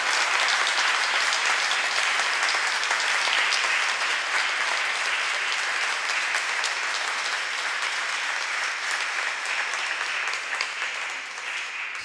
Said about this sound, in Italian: dategli un applauso perché merito suo per la nostra scelta